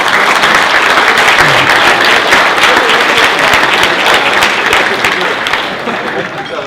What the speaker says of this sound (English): So if we give everybody a round of applause.